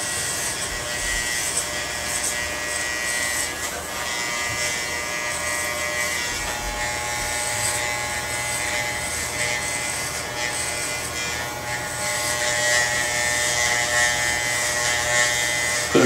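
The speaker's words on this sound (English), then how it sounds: "A new blade on that clipper so it's cutting real good." An electric hair clipper with an open, new blade cuts hair for a flattop, giving a steady close-up buzzing drone that continues throughout.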